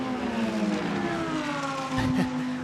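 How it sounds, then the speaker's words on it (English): Loud GT3 race cars, including a low-rumbling Mercedes, roar past in quick succession at Spa, engines droning and shifting pitch as they sweep by close at hand. "Three distinctive sounds of the cars as they rush past."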